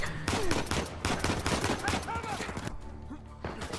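Rapid bursts of gunfire crackle through a firefight in Uncharted 4 on crushing difficulty, dense and loud in the first half, then thinning out, with a player's voice talking over the shots.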